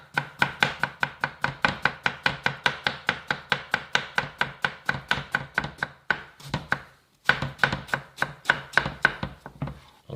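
An apple being sliced with a knife on a board in quick up-and-down strokes, a long, even run of crisp, close taps that pauses briefly near the end and then resumes at the same brisk rhythm.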